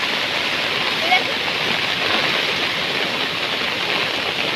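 A loud, unbroken roar of a flooded river rushing during heavy monsoon rain in Sindhudurg, Konkan, close and constant, filling the whole scene with no voices.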